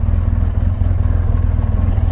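A 2014 Polaris RZR 800 EPS side-by-side engine runs steadily, a loud low throbbing drone with a fast even pulse and no clear revving.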